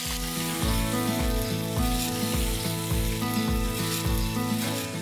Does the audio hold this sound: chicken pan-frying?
yes